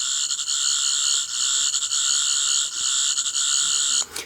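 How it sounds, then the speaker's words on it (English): Toy 8th Doctor sonic screwdriver giving a stuttery, quivery electronic warble, steady and close for about four seconds before cutting off abruptly. "you've got that sort of stuttery, quivery Sonic Screwdriver sound"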